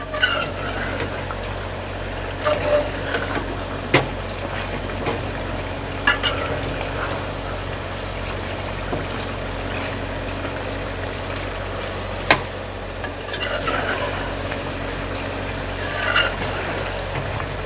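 Chicken karahi frying over raised heat while spices are stirred in, a continuous low sizzle and hum with occasional sharp utensil knocks and scrapes against the wok spaced several seconds apart.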